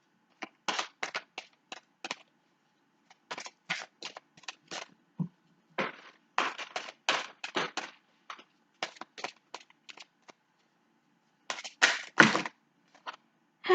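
Oracle angel cards are shuffled and drawn in a quiet room, giving bursts of crisp flicking and riffling separated by short pauses, close and fairly soft with no talking.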